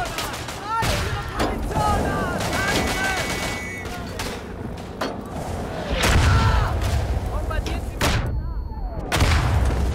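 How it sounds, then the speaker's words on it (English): Artillery shells and grenades explode in the World War I shooter Verdun, booming and thudding in a dense, repeated barrage with gunfire crackling between blasts, heaviest near the end, as a voice speaks over the battle. "Fuck, artillery."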